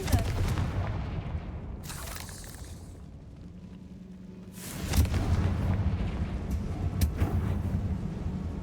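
Confringo blasting spell explodes in a Hogwarts video game, a deep rumbling boom that swells near the middle and rolls on through continuous low crackling debris and echo.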